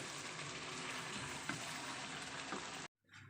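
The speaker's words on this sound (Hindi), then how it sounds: "पानी देखिए हमारा पक रहा है।" A pot of water comes to a boil for biryani rice, giving a steady, close bubbling hiss that holds for about three seconds before cutting off abruptly.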